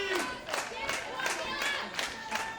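Packed rodeo crowd at the Bunkhouse Stampede in Huntsville, Alabama, cheering and clapping in steady rhythmic bursts, roughly seven pulses in quick succession, fairly close and lively.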